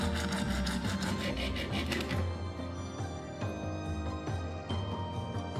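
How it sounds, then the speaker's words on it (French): A jigsaw buzzes steadily through plastic with a harsh rasping tone, pitch shifting slightly as the cut continues, close and loud throughout. "on le découpe avec la même scie sauteuse"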